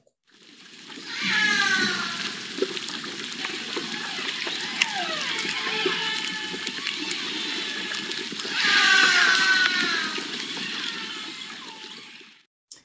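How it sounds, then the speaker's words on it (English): Bigg's orcas call underwater in a hydrophone recording, a series of rising and falling whistles and pulsed squeals over a constant watery hiss and splashy noise, with a louder burst of calls near the end. "This first one are Biggs orcas."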